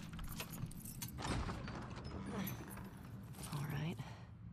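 Faint jangling of a bunch of keys near a door in The Last of Us 2, soft metallic rattles mixed into ambient game sound while someone speaks over them.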